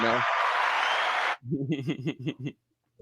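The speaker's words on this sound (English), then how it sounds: "I live for the applause" A brief, dense burst of applause lasting about a second rises over a voice, then cuts off as people continue talking.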